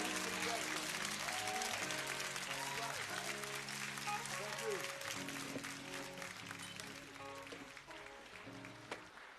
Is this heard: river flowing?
no